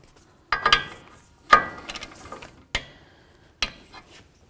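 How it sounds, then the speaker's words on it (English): A ratchet tightens a castle nut on the tie rod of a 2008-2012 Jeep Liberty, with four separate short bursts of clicking and metallic scraping, close and clear with quiet gaps between them. "If it's not, you need to continue tightening until the next closest slot lines up."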